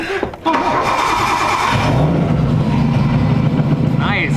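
A Nissan Skyline engine cranks and catches, then settles into a loud, steady idle with the light ticking of its lifters running underneath, and voices talk briefly at the start.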